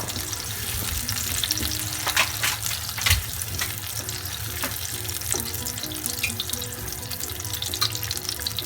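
Onions fry in hot oil for pork bistek, giving a steady, close sizzle and crackle with occasional small pops and stirring noises.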